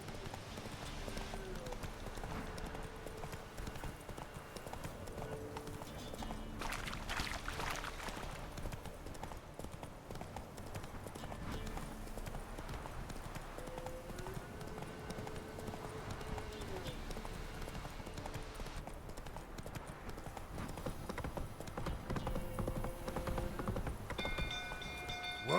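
Hooves of Roach, a horse in The Witcher 3 video game, clip-clop in a steady rhythm throughout, with low game ambience and occasional tonal sounds underneath.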